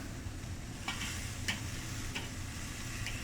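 Sausages and peppers fry in a pan, giving a steady soft sizzle broken by a few sharp scraping stirs and clicks from the utensil against the pan.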